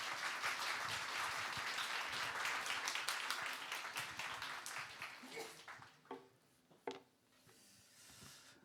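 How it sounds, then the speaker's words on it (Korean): A church congregation at a Korean young adults' Sunday worship service welcomes the pastor with a burst of clapping and cheering that swells at first and then thins into a few scattered claps. "우리 목사님 뜨거운 환호와 격려의 박수로 목사님 맞이하도록 하겠습니다"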